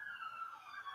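Faint emergency sirens wail from outside at a distance, a thin steady wavering tone that holds for the whole second.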